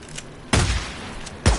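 Gunfire in the video game Days Gone: two heavy, booming shots about a second apart, each with a deep thumping low end and a short decaying tail, close and loud.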